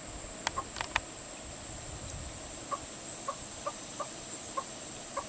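Newly hatched chicks in an indoor furnace room, a few faint high cheeps early on followed by soft, evenly spaced clucking peeps, quiet over a low steady hum.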